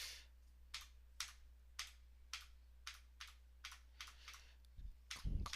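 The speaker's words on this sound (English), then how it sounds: "Clackety clackety clack, Model M." Typing on an IBM Model M buckling-spring keyboard: crisp, close keystroke clusters in a steady rhythm, about ten bursts, with a low electrical hum beneath and a few louder thumps at the end.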